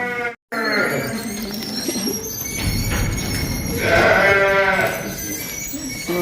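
Goat at a zoo bleating in loud, wavering cries close by, one at the start and a longer call near the end, with people chatting around it.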